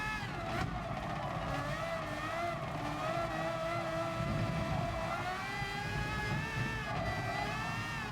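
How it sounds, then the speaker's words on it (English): The Red Bull X2019 Competition race car's V12 engine of about 850 horsepower roars steadily in Gran Turismo Sport, a continuous high-revving drone with rising and falling pitch and no talk. "The Red Bull X 2019 competition. V12, 850 odd horsepower. Sounds like a beast."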